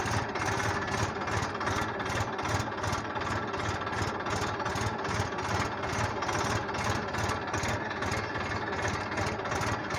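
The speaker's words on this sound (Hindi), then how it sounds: "और पीछे से हकाई चालू हो गई है।" A tractor engine runs steadily in first gear while pulling a harrow through a farm field, a loud continuous rhythmic chugging with regular pulses throughout and no talk.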